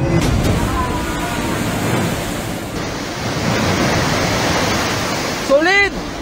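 Strong Super Typhoon Pepito winds and pounding surf roar as steady, dense noise throughout. A brief voice cuts through near the end.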